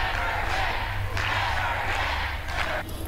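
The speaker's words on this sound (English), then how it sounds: "The crowd there chanting "Never Again," an incredibly powerful moment." A large crowd at a March for Our Lives rally chants "Never Again" in a loud, continuous roar with rhythmic swells, heard from a distance.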